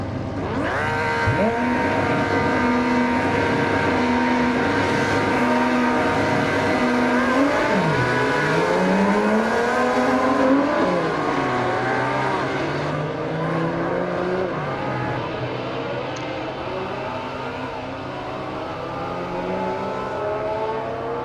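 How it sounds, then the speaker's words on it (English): Racing in a video game: a 2007 McLaren MP4-22 Formula 1 car and vintage F1 cars from the 1920s to the 1970s on the Nürburgring, with engines droning loudly and pitches sweeping up and down through gear changes, continuous throughout. "I put the fast cars in front of the slow cars, and I'll see if I can catch them after giving them a whole minute."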